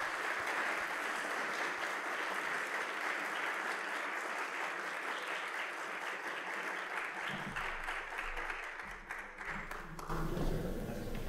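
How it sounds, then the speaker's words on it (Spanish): An audience at a university telecommunications academic panel applauds the speakers, with steady, sustained clapping that fills the room at moderate distance and carries on without a break for about ten seconds. "Quisiera, por favor, que despidamos con un gran aplauso a nuestros ponentes."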